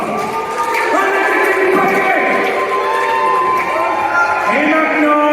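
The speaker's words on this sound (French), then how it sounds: "Alors, pour l'équipe romaine, on applaudit bien fort." Crowd cheering and shouting for the Roman team at a Gauls-versus-Romans show recreated in Minecraft, a loud, dense burst of voices and whoops sustained throughout.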